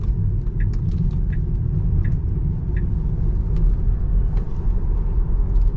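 Tesla Model 3 Standard Range electric sedan cornering on the road, heard from inside as a steady low rumble of road and tire noise with a faint hum, no voices.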